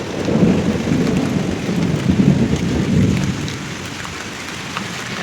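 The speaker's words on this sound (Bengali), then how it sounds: "খালি মেঘ ডাকতেছে, এদিকে আর এদিকে বৃষ্টি।" Heavy rain pours steadily on surfaces while thunder rumbles low and continuous through a storm outside a house, loud and close throughout with no voices.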